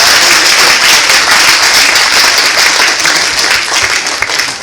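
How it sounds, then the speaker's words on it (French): High school students at a conference with the agglomeration president fill the room with loud, dense applause that holds steady for several seconds and begins to thin out toward the end. "Chers lycéens, je vous invite à applaudir et à remercier Monsieur le Président."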